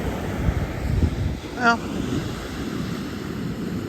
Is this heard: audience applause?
no